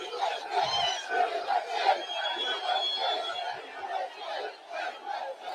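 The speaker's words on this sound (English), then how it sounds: "This is a rather nice crowd." A large crowd at a Trump rally in Coachella, California, a dense roar of many voices cheering and chanting, steady and sustained, heard from within the crowd.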